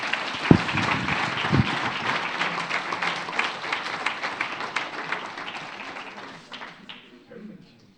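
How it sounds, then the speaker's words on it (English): Conference audience applause, a dense wash of clapping that begins at full strength, holds steady, then gradually thins and fades over several seconds. "let's give him a round of applause."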